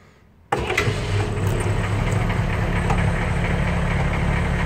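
A military vehicle with a keyed ignition, shifted into neutral, cranks and fires up after a brief quiet moment. It then settles into a loud, steady, rumbling run close by.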